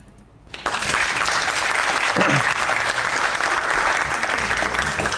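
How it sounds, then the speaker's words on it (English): Canned applause sound effect on a podcast, bursting in after a brief quiet moment and continuing as a dense, steady crowd of clapping and light cheering. "I tried to give you some applause."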